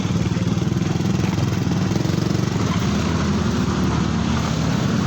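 A motorcycle engine runs steadily and loudly close by with a throbbing, even pulse, right after an accident below Ynares in Antipolo.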